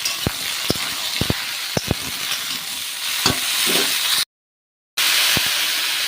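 Chickpea dal vegetable curry masala sautéed in a pan with salt and ginger paste, heard as a steady sizzle broken by sharp spoon clinks and scrapes, a brief silent gap, then more frying.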